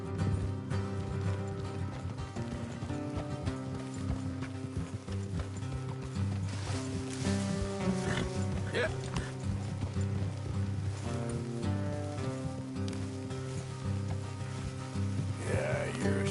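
Steady clip-clop of horse hooves at a gallop in Red Dead Redemption 2 under a layer of music, with faint clinking mechanical sounds, continuous and fairly loud throughout.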